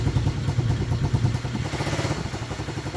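A 110cc pit bike engine settles to idle after a cold start, a steady, close, slightly uneven low putter with mechanical clatter running the whole time and no talk.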